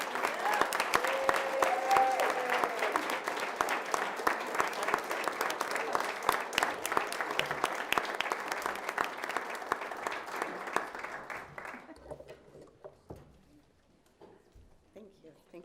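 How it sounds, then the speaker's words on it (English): A room of people claps steadily for several seconds, dense and sustained, then the applause thins out and fades to scattered claps. "Let's give them a large round of applause."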